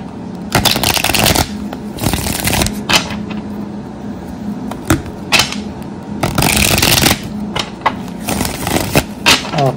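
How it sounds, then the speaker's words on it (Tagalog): Tarot or playing cards are shuffled loudly and close up, making bursts of riffling and slapping with short gaps between them. There is a steady background hum and no speech over the shuffling. "Balasahin muna po natin."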